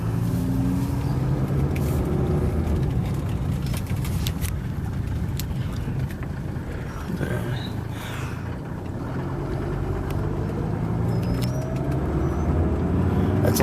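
A steady, low diesel engine drone from a 1987 Mercedes-Benz 190D 2.5 Turbo while driving, with road noise and a few faint clicks and rattles.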